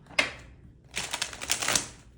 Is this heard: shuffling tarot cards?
yes